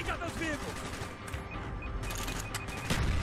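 Gunfire in Call of Duty: Black Ops, a burst of loud shots over dense game sound, with a voice speaking faintly in the mix.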